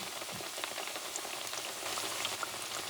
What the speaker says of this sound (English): And fry them for no more than a minute.